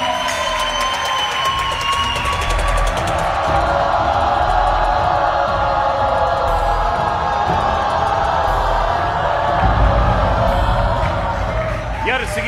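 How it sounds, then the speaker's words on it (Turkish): Studio audience on a Turkish wheel-of-fortune TV game show claps and cheers in a loud, dense roar with whoops, while a host's voice talks over it throughout. "Alkışlar."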